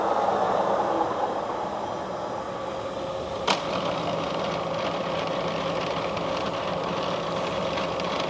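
A Cincinnati No. 3 horizontal milling machine runs at 1,300 RPM, its top speed. It gives a loud, steady mechanical roar and hum with an even drone throughout, and one sharp brief click partway through.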